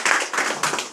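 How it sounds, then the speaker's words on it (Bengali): A seminar audience at a Bengali direct-selling event claps in loud bursts, three dense waves of hand claps over about a second. "এই প্রোডাক্টের জন্য আমরা জোরদার হাততালি চেয়ে নেব।"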